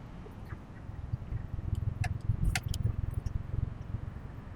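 An auto rickshaw driving over a potholed city road, with a rough, rumbling engine drone and repeated jolts and rattles as the wheels bump through uneven ground, plus a few sharp metallic clinks near the middle.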